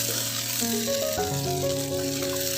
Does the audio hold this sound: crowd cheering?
no